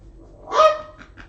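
A dog gives a single short bark, fairly close and loud, followed by a couple of softer trailing yips in a quiet room.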